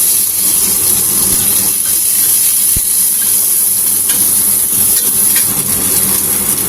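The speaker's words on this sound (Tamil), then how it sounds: "இப்போ இந்த வெங்காயம் போட்டுக்கலாம்" Onion frying in hot sesame oil in a kadai after cumin seeds have crackled, a steady loud broadband hiss and sizzle throughout with one brief sharp click near the middle.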